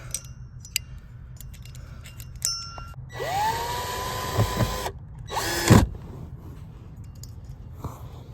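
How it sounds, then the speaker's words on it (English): Screws are driven back into the center console of a 2003 Saturn Ion, with two short whirring bursts of a driver, the first longer and steadier, over a quiet background with small clicks and rattles. "Time to put those screws back into this center console. 4 screws."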